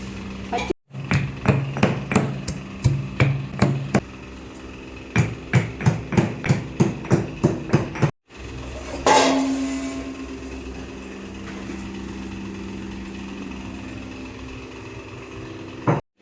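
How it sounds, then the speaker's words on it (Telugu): Whole unpeeled garlic bulb pounded for Nellore fish curry cooked in a clay pot, a run of sharp, evenly spaced thuds in two bursts, followed by a steady engine-like hum. "తెల్లగడ్డ పొట్టు తీయకుండా అట్లే దంచి వేసేసినారు చూడండి."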